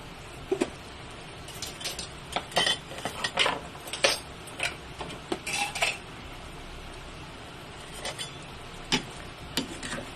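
A utensil scrapes and clinks against a pan while beef with mushrooms and green peas is stirred, a string of irregular sharp taps and knocks close up, with no talking.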